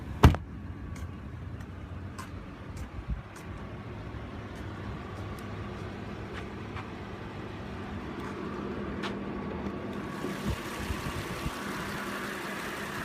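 A 2016 Audi A8L's 3-liter TFSI supercharged V6 idles under the open hood with a steady, fairly quiet hum, broken by a few clicks and a sharp knock at the start.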